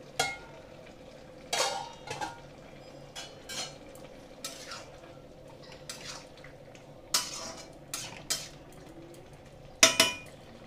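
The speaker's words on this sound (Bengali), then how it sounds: "এবার আমি ঢাকনাটা সরিয়ে দেব।" A lid is lifted off a cooking pan of prawn and greens simmering on a low gas flame, giving scattered metallic clinks and clatters among light scraping, with a quiet sizzle beneath and no talk.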